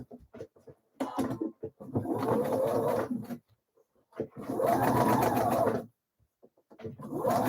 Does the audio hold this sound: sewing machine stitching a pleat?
yes